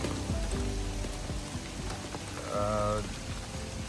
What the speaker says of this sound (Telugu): వర్షం మళ్ళీ స్టార్ట్ అయిపోయింది